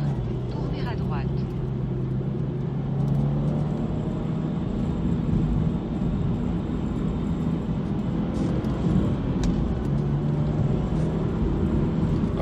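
Interior drone of a Japanese-market Subaru STI X being driven on the road in Japan, a steady low engine and road hum running throughout with a couple of faint shifts in pitch, no one speaking over it.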